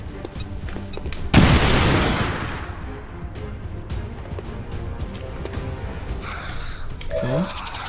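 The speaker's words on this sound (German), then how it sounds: "Grenade out." A grenade going off in the video game XCOM 2, a sudden loud booming blast that fades into a rumbling tail, with a voice talking around it.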